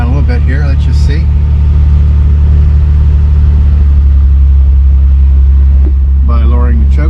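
A 1969 MGC GT engine idles at a fast 1500 RPM, a loud, steady low rumble running throughout, with someone talking over it at the start and end.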